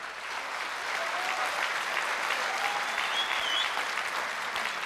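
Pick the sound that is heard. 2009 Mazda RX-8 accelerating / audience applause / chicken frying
audience applause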